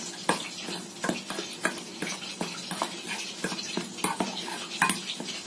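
Spices being stirred by hand into gram flour batter in a bowl, a quick series of close, irregular scraping and tapping strokes with no voices.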